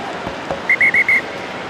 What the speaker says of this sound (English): Nigel Owens blows his whistle